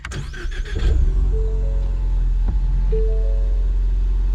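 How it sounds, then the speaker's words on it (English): A 2022 Ford Mustang EcoBoost engine with a manual transmission cranks and turns over, then settles into a steady, loud idle with a low rumble and a brief faint whine. "Start the car to make sure it works."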